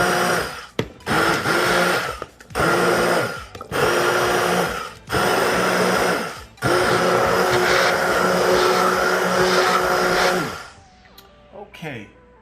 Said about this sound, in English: I'm going to go ahead and hit this with the blender just to get it going.